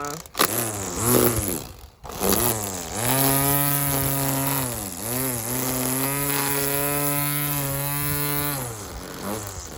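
A lawn edger trims a grass edge in a home garden, with a couple of short motor bursts and then a sustained, steady buzzing drone that rises and dips slightly in pitch for several seconds.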